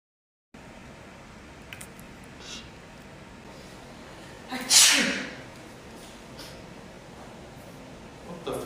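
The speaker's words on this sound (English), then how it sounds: "You just fucking sneezed on me." A single sharp, loud sneeze bursts out near the middle of an otherwise quiet indoor room, with faint rustling before and after.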